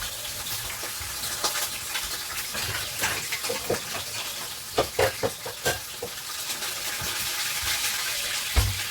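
Sea bass fries in hot oil with a soft, continuous sizzle and crackle, broken by a few sharper pops and spatters, fairly quiet overall.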